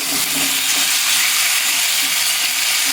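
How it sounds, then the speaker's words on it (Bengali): Mutton curry with potatoes being sautéed and stirred in a pan, a steady close sizzling hiss with faint scraping of the spoon, continuous and fairly loud with no talking. "মাংসটা প্রায় পঁচিশ থেকে তিরিশ মিনিটের মতো এটাকে ভালোভাবে কষতে হবে"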